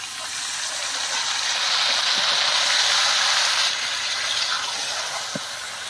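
Chicken meat tipped into fried onions in a pan, giving a steady broad sizzling hiss that holds for several seconds, with a couple of faint clinks and no talk.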